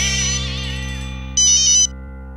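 A mobile phone rings with an incoming call. A short electronic ringtone sounds in two quick bursts, clear and fairly loud, over a steady music bed.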